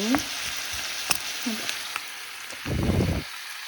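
Garlic and onion frying in a pan give a steady sizzle throughout, with a few brief stirring scrapes and a louder burst of bubbling near the end.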